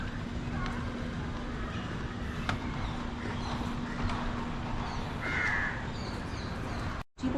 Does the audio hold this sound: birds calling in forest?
yes